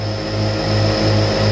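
A 2003 HAAS SL-30T CNC lathe spindle spins at maximum RPM, producing a loud, steady tonal whine with a strong low hum, held briefly and close.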